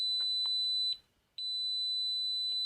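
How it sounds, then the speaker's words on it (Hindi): A Kaiweets KM601 multimeter's continuity buzzer sounds a loud, steady high-pitched beep, cut off once for about half a second, then resuming with faint clicks of the probes. "चलिए पहले बजर को हम टेस्ट करते हैं।"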